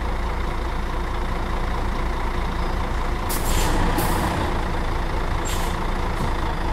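A truck engine in Euro Truck Simulator 2 idles with a steady loud rumble, and a few short bright hisses of the air brake break through near the end, with no talking.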